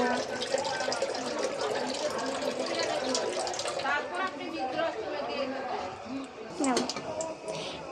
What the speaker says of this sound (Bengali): এখানে আমরা ভালো করে মাংসটিকে আমরা ধুয়ে নেব